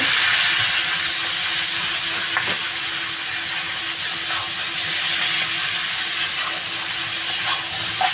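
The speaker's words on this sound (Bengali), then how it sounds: "এবার বন্ধুরা আমি এই সবজিটা ভেজে দিই" Vegetables with prawns and pumpkin frying in a pan for a Bengali home-style curry, a loud, continuous, even sizzle and hiss that holds steady throughout with no voices.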